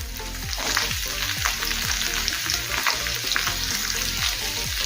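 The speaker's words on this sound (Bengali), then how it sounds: "এখন দেবো লম্বা করে কেটে নেওয়া কুঁদরি।" Sliced ivy gourd tossed into potatoes already frying in a pan, a dense, loud, continuous sizzle close up with rhythmic scraping and stirring clatter, no voices.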